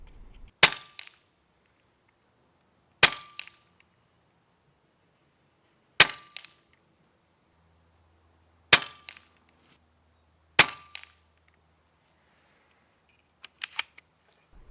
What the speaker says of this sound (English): All right, so now I'm going to shoot 2 groups down at 50.